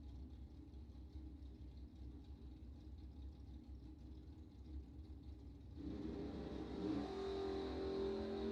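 A drag racing car launches off the starting line at a bracket drag race. A faint, distant idle rumble suddenly swells into a louder rising engine roar as it pulls away.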